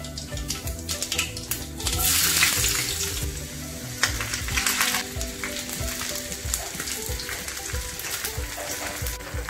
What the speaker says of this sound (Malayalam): കടുക് പൊട്ടി തുടങ്ങുമ്പോൾ ഉള്ളി അരിഞ്ഞത് വെച്ച്,